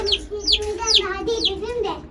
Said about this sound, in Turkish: Civcivlerimiz burada saklanıyorlar.